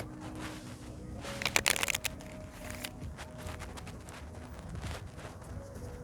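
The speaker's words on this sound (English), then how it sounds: "I'm going to shuffle the cards a little bit differently" Tarot cards are shuffled by hand in a quiet room, with a burst of quick riffling clicks and rustles near the middle, then softer fluttering card sounds over a low background hum.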